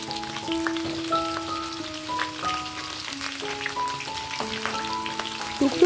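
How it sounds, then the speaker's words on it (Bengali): Pointed gourd pieces frying in hot mustard oil with turmeric and salt, a soft, patchy sizzle and light crackle under faint tonal music. "টুকরো করে কেটে রাখা পটলগুলো ভাজার সময় সামান্য একটু হলুদ আর লবণ অ্যাড করে দিয়ে পটলগুলোকে ভাজছি।"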